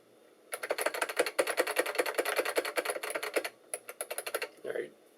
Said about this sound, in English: The space bar is very scratchy.